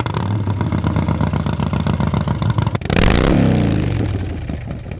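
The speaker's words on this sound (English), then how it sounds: "Let's take these bad boys out and see what they sound like." A motorcycle fitted with a Vance and Hines Big Radius 2-into-2 exhaust idles with a loud, lumpy rhythmic chug, then is revved hard into a rising, roaring burst that slowly falls back toward idle.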